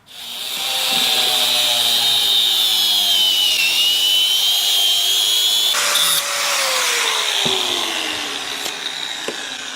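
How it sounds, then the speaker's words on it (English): A power drill whines steadily at high speed for several seconds, its pitch dipping slightly under load, then shifting as the bit works through the material. "Just got to drill 1 hole in it"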